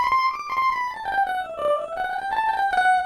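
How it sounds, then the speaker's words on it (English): An electric guitar sounds through an octave-up pedal effect programmed in SuperCollider, a bright raised melodic line that gently sweeps down and back up over a few seconds. "I can do the opposite with the octave higher."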